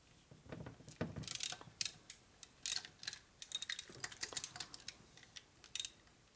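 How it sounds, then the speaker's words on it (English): A ratchet works bolts down on the case of a 1997 Harley-Davidson Evolution 80 cubic inch engine, giving close, clicking pawl bursts in uneven runs with small metallic clinks between them and no voices. "So I run the bolts down until they just touch and I back them off."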